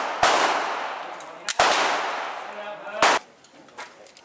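Police cadets firing pistols at a shooting range: three sharp, loud gunshots spaced over about three seconds, each with a reverberant tail, and a quieter pop near the end.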